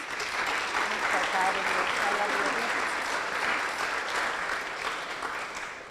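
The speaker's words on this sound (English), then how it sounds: "Round of applause." An audience at a Selah Freedom community event gives a steady round of applause, a full, even wash of many hands clapping for several seconds, with voices audible through it.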